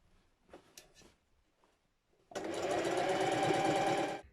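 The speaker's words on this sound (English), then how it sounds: "I'm keeping my seam allowance exactly the same and consistent as I sew the neckband on." A domestic sewing machine stitching a neckband onto a sweatshirt, starting after a few soft handling sounds and then running as a steady, loud, continuous whir of rapid needle strokes close by.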